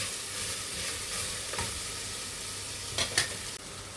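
Onions fry in oil in a pan for Thalasseri mutton biriyani, giving a constant close sizzle, with a few brief scraping stirs near the end.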